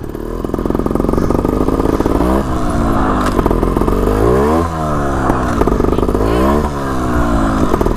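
A motorcycle engine revs hard during a sit-down wheelie, loud and close, rising and falling in repeated throttle sweeps with a buzzing, clattering tone throughout.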